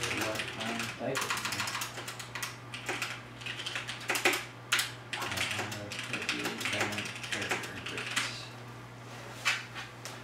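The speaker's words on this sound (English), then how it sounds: "let me type something in." Rapid, uneven clicking and clacking of keys on a computer keyboard, typed up close and fairly loud with a few harder strokes, over a steady low hum with no talking.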